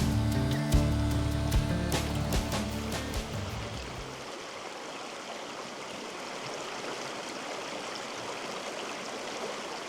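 Cold creek water from the Boise National Forest flows steadily along Grimes Creek in Idaho, a continuous broadband rushing that dominates after an earlier mix of other sounds in the opening seconds.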